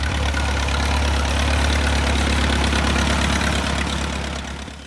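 A vintage Fordson Major tractor engine runs steadily at idle, a loud, continuous low rumble with a rhythmic knocking pulse and no talk, fading slightly at the very end.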